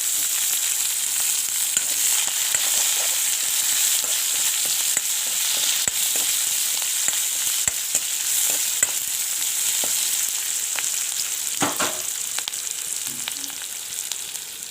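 Chopped onion and green chili fry in hot oil in a pan, a steady close sizzle dotted with sharp crackles and occasional scraping stirs, with no voices.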